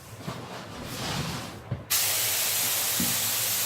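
Activator sprayed from a spray gun onto a carbon-effect paint surface: a steady, close hiss that surges and then holds loud and continuous until the end, with no talking.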